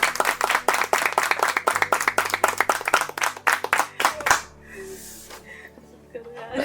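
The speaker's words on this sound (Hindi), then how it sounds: "तालियां तो हो जाए" Students clapping in a group, a brisk run of sharp, close hand claps for about four seconds that then stops, followed by quieter room sound and a voice.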